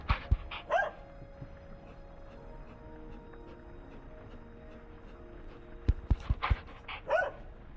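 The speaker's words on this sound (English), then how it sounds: "Yes, David, I know you've got a dog" A dog barks in short bursts, a couple of yips early and another cluster near the end, fairly distant behind a quiet humming room.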